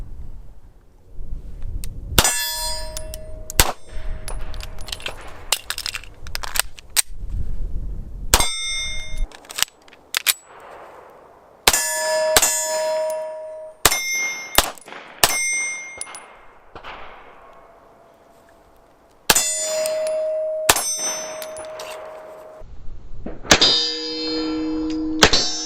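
Repeated sharp gunshots from a Beretta 92X 9mm pistol, fired in spaced bursts of loud cracks with bright metallic ringing after each, including clusters of rapid shots and a few single reports.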